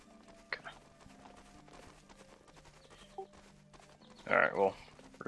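Horse hooves clip-clopping in a multiplayer battle royale video game, a few soft hoof taps under faint game ambience, ending in a louder double clatter near the end.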